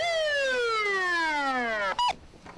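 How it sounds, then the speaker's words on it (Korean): An ambulance siren being tested sweeps down in one long, loud falling wail for about two seconds, then gives a brief sharp electronic blip before cutting off. "사이렌 소리 점검도 필수 사항이다."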